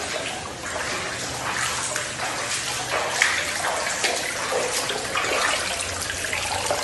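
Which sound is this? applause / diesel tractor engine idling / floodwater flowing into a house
floodwater flowing into a house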